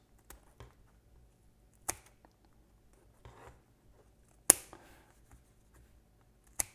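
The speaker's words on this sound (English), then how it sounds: "And I'm just going to use some scissors to get it close." Scissors snip the overhanging edges of thin real wood planks glued onto a miniature base, giving a few sparse, sharp, close cuts separated by quiet pauses, one snip louder than the rest.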